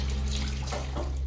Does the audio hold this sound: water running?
yes